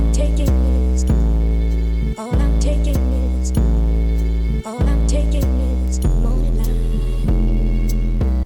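An 808 bass pattern plays over a chopped sample: heavy sub-bass hits land in a repeating rhythm beneath a looping melodic sample, loud and dense, with brief dropouts between chops.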